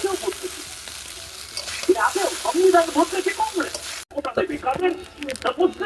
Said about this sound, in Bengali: একদম আস্তে আস্তে আস্তে আস্তে উল্টে পাল্টে